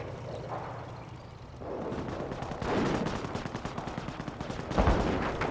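Gunfire in a Company of Heroes battle on the Bastion map: dense, continuous rattling shots and bursts of small arms and machine guns, with a heavy boom near the end, loud and close throughout.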